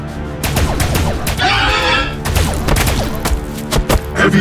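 Necron Immortals in the strategy game Battlesector unleash a dense volley of sci-fi weapon fire, repeated sharp blasts and crackling energy bursts overlapping in a loud, continuous barrage with a thick burst midway.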